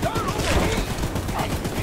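The train's mounted gun in Choo Choo Charles firing in a rapid, steady rattle, loud and close, with shouting voices over the shots.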